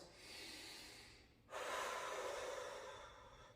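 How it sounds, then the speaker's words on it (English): Deep, steady breathing during a pregnancy core workout with a resistance band: a soft breath in, then a louder, fuller exhale that swells and slowly fades, close and alone without talk. "breathing into the tummy and out"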